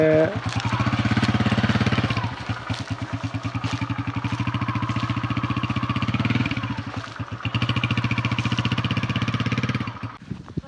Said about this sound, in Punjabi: ਹਾਦੀ ਸਾਹਿਬ ਨੇ ਜੀ ਗੱਡੀ ਕਰ ਲਈ ਹੈ ਸਟਾਰਟ।